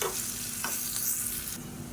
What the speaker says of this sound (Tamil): இப்போ இந்த வெங்காயம் வந்து நல்லா வதங்கணும்